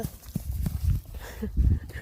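A horse on a farm, kept with cows and fed fresh green grass, makes soft, irregular hoof thuds and shuffling steps close by. A faint voice can be heard in the background.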